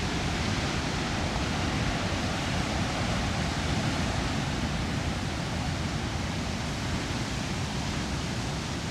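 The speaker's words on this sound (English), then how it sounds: "But the waves are pretty spectacular." Steady roar of ocean waves breaking on the Lanzarote coast, continuous and broadband, with no distinct individual crashes.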